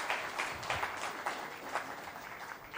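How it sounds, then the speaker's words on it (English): A round of applause from the audience at a university's 20-year celebration in New Delhi, fairly faint and distant, with soft rolling bursts of clapping that continue steadily for the whole stretch. "if we can just give him one more round of applause"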